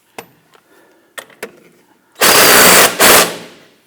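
An 18mm wrench tightening the upper pinch bolt nut during a front CV axle replacement on a 2006-2010 Hummer H3. A few light metallic clicks are followed by two loud, close rattling bursts, the second briefly broken off.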